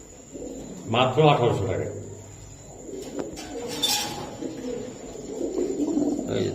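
A pair of Gola pigeons for sale at a pigeon market coo softly in the background while someone talks over them.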